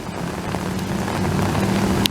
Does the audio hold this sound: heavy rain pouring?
yes